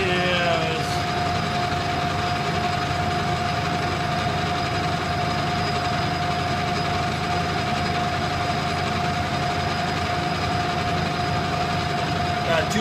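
A metal lathe turns at about 670 RPM with a feed of roughly three thousandths per inch, taking a cut that throws curly chips while making lathe follow-rest and steady-rest buttons: a steady, close mechanical hum with a constant whine throughout.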